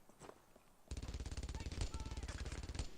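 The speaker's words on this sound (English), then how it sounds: "I'm not likely to get shot by that machine gun because it's more of an area of effect" Machine gun fire from the World War II video game Brothers in Arms: Earned in Blood starts after a short quiet moment and continues as a loud, rapid, sustained burst of shots for about two seconds.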